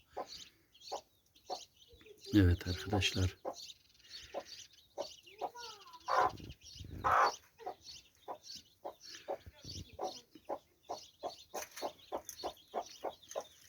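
A hen calls her chicks with rapid, rhythmic soft clucks, calling steadily, while the chicks' high peeping chirps and a brief spoken voice break in partway through.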